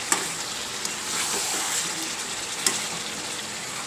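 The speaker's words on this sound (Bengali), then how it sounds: "এই যে চিকেনটা এখনও কষাচ্ছি" Chicken sautéing in a pan for biryani gives off a steady, close frying hiss, broken by a few faint clicks and stirring scrapes, with nobody talking.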